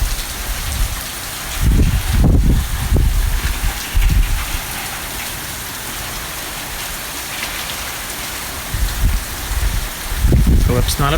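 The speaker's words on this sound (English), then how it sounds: "Yay, rain." Steady Florida storm rain hisses on surfaces throughout, broken by several louder low bursts of gusting wind or rumble near the start and end, with a voice briefly heard over the downpour.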